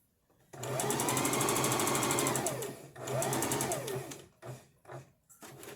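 A sewing machine stitches fabric nearby in two sustained whirring runs, the first longer, followed by a few short bursts as it slows and stops, loud and mechanical with no talking.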